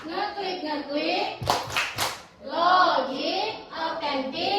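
Schoolchildren clap along to a classroom clap chant, with a short cluster of sharp claps in the middle surrounded by kids' voices chanting aloud.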